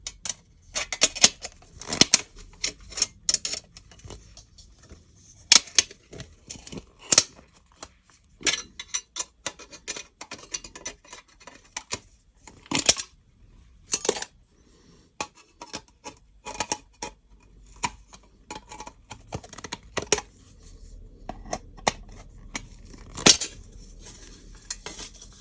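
Silver base being cut into pieces for refining, heard as a long run of sharp, irregular metallic snips and clicks with quiet gaps between them, close and fairly loud.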